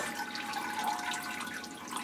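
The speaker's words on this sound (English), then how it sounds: "it's just a matter of getting pots down and watering them" Water pours steadily over potted orchids during watering, a continuous close splashing and trickling into a bowl with no voices.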